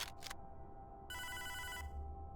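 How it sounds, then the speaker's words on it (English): Ringing telephone in the game Hotline Miami, a fairly quiet electronic ring with a short burst, a pause, then a sustained trilling ring over a low background hum. "Someone's phone is ringing."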